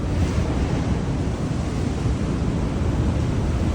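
Strong waves crashing against a ship in bad weather at sea, a loud, continuous roar of surf and rushing water mixed with heavy wind buffeting the microphone.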